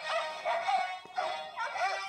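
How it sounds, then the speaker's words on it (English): A Star Wars-themed greeting card plays barking dog sounds arranged as the Imperial March, a tinny electronic series of rhythmic yips and barks at close range with no talking. "And it's barking the Imperial March."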